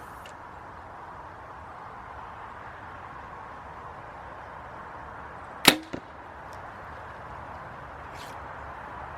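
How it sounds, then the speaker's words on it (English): One crisp release from a Prime Black 5 compound bow cracks sharply, closely followed by a brief thud as the arrow hits, set against a steady hiss of distant traffic, with no talking. "so you guys can kind of hear the bow and get a feel for it."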